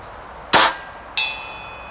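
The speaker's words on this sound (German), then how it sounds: "ein Schuss aufs große Klangziel" Two sharp metallic hits land about half a second apart, airgun pellets striking a large steel gong target at a field target shoot. Each leaves a bright ringing tone that fades slowly.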